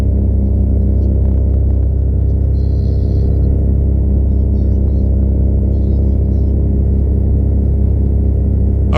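A steady, droning paramotor engine runs continuously at close range in flight, a loud buzzing hum with constant pitch and no breaks.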